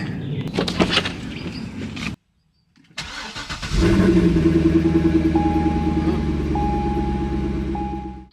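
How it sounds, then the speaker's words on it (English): A C6 Corvette gives a cold start: rustling and a door, a brief silence, then the cranking engine catches and settles into a loud, steady high idle with a faint recurring chime, close by. "Let's get a cold start on this and get it out of the way."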